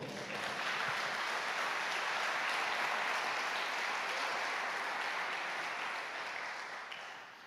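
Church congregation applauding during a sermon, a sustained, even wash of many hands clapping at moderate distance, holding steady for several seconds before easing off slightly at the end.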